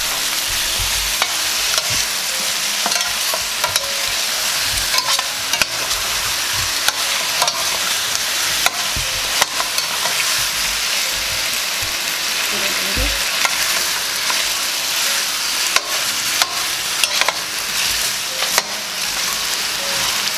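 Trinidad pigtail pelau searing in a pot, a loud continuous sizzle broken by frequent sharp scrapes and clicks of stirring throughout.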